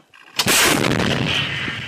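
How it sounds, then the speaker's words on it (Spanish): An artillery gun fires a single loud, close blast at a target position, followed by a long rumbling decay with no talking. "Para destruir completamente esta posición, los artilleros disparan una vez más."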